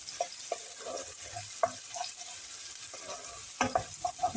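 Pork meat frying in a pan with onion and garlic gives a soft continuous sizzle, broken by intermittent scraping and stirring clicks, fairly quiet with no talking.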